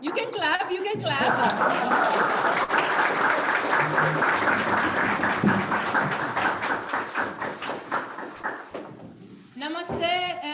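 Sustained applause from a seminar audience in Kathmandu, Nepal fills most of the stretch, dense and steady, then thins out before a voice speaks at the end.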